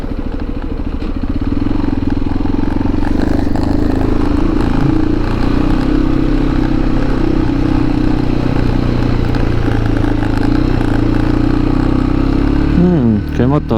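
Motorcycle ride through Cappadocia, the engine droning steadily and loud close by throughout, with a voice talking over it.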